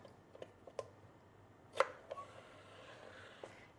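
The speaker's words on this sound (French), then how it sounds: "pour les concombres, en fait, je vais les couper en 2 dans la longueur et encore en 2" A knife slices cucumbers lengthwise for a salad, a few sparse, faint cutting taps and one louder chop against a board, with quiet room tone between.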